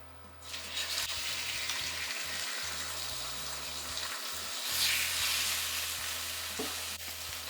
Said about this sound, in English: We should hear that sizzle while we're cooking.